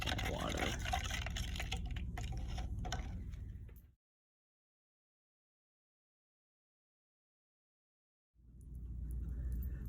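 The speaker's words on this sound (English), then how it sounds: "I'm going to stir my mixture of gravel and water" Gravel and water stirred together in a container make a loud, continuous gritty slosh and rattle that stops abruptly midway, then resumes after a few seconds of silence.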